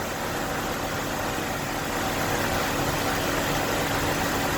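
A 2002 Nissan Sentra engine, after a head gasket repair, idles steadily and evenly, a constant low rumble with no talking.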